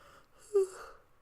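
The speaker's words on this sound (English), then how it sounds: "let me finish my yawn" A single short yawn, a quiet breathy drawn-out exhale with a brief voiced peak in the middle, close and faint against near silence.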